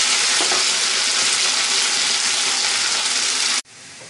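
Potatoes sizzle and crackle loudly in hot fat in a pan, a dense, constant frying hiss that stops abruptly near the end, leaving a softer sizzle.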